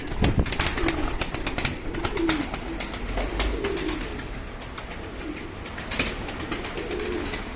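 Pigeons ready for racing coo steadily at close range, low soft rolling calls repeating over a cluttered background of wing flutters and rustling, with no talking.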